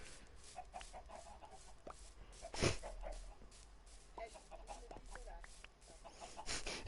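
Chickens cluck in Minecraft on PS4, with faint scattered clucks and one louder squawk partway through over low background noise.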